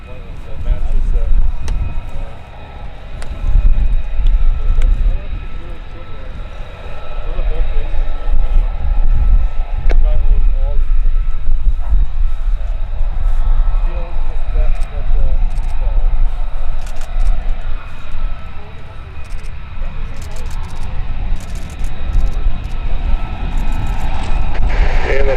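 A warbird airplane arrives at EAA AirVenture Oshkosh, its engine a continuous loud rumbling drone that holds nearly the whole time with slight swells, while people talk over the noise.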